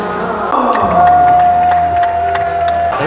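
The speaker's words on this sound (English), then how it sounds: "I like the crowd here cheering for Timor Leste." An indoor arena crowd at a SEA Games boxing semifinal at the PICC Forum cheers loudly for Timor Leste, a sustained roar with shouts and whoops and a long whistle-like tone cutting through.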